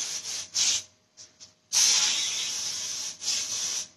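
Cooking spray hissing onto a cake pan for a pound cake, short bursts followed by a long steady spray and a final burst, close and fairly loud with no voices.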